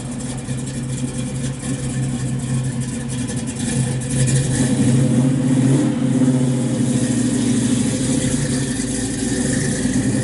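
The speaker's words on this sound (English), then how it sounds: "Super, super nice car. Sounds good. Got that 3-inch exhaust." A 1967 Chevrolet Chevelle SS 396 V8 with a 3-inch exhaust idles with a throaty rumble, then revs up and swells louder before settling, steady and close.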